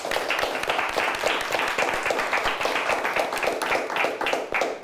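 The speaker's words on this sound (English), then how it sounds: "A nice round of applause for them." An audience at a televised high school quiz competition applauds a team, a brisk, continuous round of clapping with individual claps standing out throughout.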